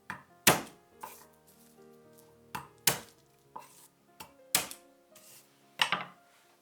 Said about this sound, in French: je hache 4 gousses d'ail.